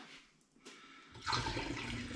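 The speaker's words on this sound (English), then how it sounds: "now I'm going to pour this back in there. It'll probably froth out the top" Cider is poured back into a fermenting container, a rushing, splashing liquid pour that starts suddenly and carries on loud and close to the end, after a quieter handling noise.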